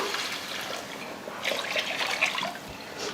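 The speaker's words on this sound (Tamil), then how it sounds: "இப்போ இதில் நம்ம தண்ணி சேர்த்துடலாம்" Water pours and splashes into a pot for cooking soaked basmati rice, in uneven bursts, fairly close, with a soft liquid gurgle and no talking.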